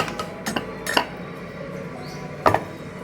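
A steel bowl and utensils clink and knock close by as ground puran is scraped out and moved across, a few sharp metallic taps spread over about three seconds with quiet gaps between them.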